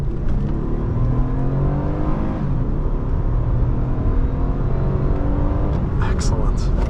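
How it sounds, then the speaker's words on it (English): A 2007 Honda Accord Coupe EX-L V6 accelerates from inside the cabin, engine drone rising steadily in pitch as the revs climb, loud and continuous with a brief chirp near the end. "Let's give it some gas."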